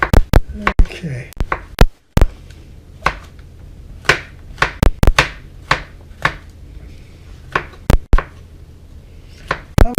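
Vegetables chopped on a board for salad, with sharp irregular knife knocks close by and a voice talking between the cuts.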